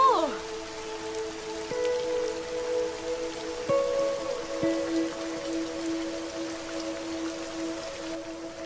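Steady rain falls on surfaces outdoors as a constant hiss, with a sustained tonal hum underneath and a few faint taps.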